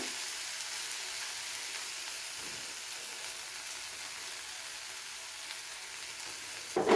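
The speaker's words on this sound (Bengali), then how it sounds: "কাঁচা লঙ্কাটা দেওয়ার পরে পেঁয়াজের সাথে আরও একবার খুব ভালো করে নাড়াচাড়া করে ভেজে নিচ্ছি।" Onions and green chili fry in a pan for dahi bhindi, giving a steady, even sizzle that runs close and unbroken throughout, with no talking.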